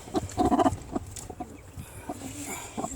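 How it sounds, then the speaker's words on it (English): A broody Cochin hen sitting on her nest gives low grumbling clucks in short bursts, close by and fairly quiet. "grumpy as most chickens when they're sitting"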